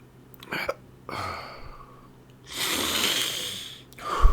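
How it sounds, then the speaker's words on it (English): Abrupt hiccups under held breathing, a few sharp bursts spread across a few seconds, close and moderately loud, with breathy noise between them. "I'm trying not to hiccup."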